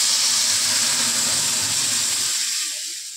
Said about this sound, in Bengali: এখন আমি ডালটা ফোড়ন দিয়ে দেবো